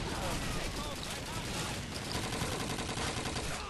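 Dense, continuous gunfire fills a Call of Duty 2 battle, with rapid shots and rattling bursts blending into a loud, unbroken wall of combat noise.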